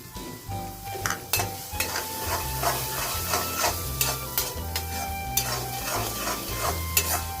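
Green onion is stirred into tomatoes frying in a pan for Kathiyawadi olo, with repeated scraping strokes of a utensil over a constant sizzle and occasional clinks against the pan.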